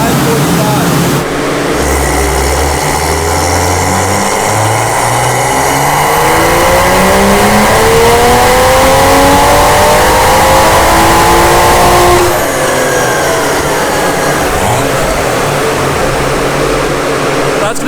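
A 2020 Toyota Supra with an upgraded turbo engine revs hard on a dyno, the pitch climbing steadily for about ten seconds before it abruptly backs off; loud and close, with a voice speaking over the run.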